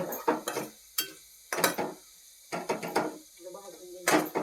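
Onion and spices roasting in oil get stirred in repeated scraping, clattering bursts against the pan, each followed by short pauses and a faint sizzle.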